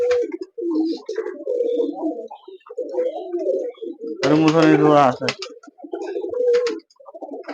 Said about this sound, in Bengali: দর্শক দেখতে পাচ্ছেন অতি ভার কবুতর কিন্তু অসাধারণ কবুতর